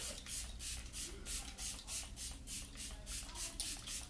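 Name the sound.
setting spray being sprayed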